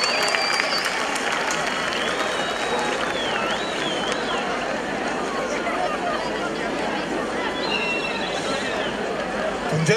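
An outdoor concert crowd in Bandırma welcomes the young mayor, a lawyer, with sustained applause and cheering, mixed with chatter and a few whistles across the whole stretch.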